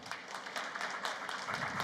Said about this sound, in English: Please make a huge round of applause